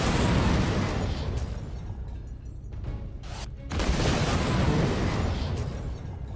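Enemy infector turrets fire during a space combat game, producing a continuous roar of heavy rumbling explosions and bursts, loud and dense, with a brief lull midway before the barrage resumes.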